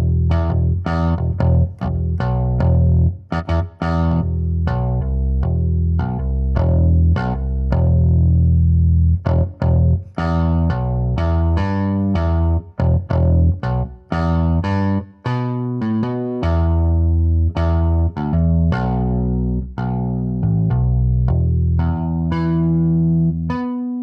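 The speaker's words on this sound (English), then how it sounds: "we've got the distortion turned on here, stomp box distortion" Electric bass from a flatwound bass sample library played through stompbox distortion, modern-gain amp setting and a 4x10 cabinet: a steady run of punchy, gritty plucked notes, loud and continuous with no talking.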